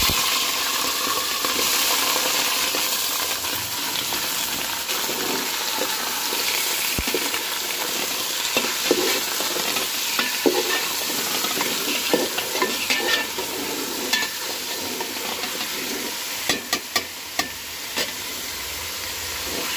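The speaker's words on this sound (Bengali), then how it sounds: "দুই থেকে 3 মিনিট তেলের মধ্যে মাংসগুলো একটু ভেজে নেব।" Chicken meat fries in hot oil with a loud, continuous sizzle and crackle close by. Occasional scraping stirs and clinks of a utensil come through, more frequent toward the end, and no one speaks.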